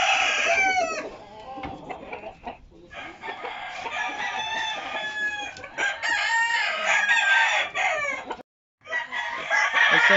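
Rooster crowing near and loud for about ten seconds, overlapping calls from a raffle bird with a couple of short gaps, busy farmyard clucking and rustle underneath.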